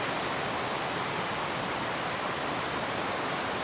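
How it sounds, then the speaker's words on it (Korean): Heavy rain pours down steadily at an outdoor traditional market, a dense, continuous rushing hiss with no breaks, loud and close throughout. "장난 아닌데 비가?"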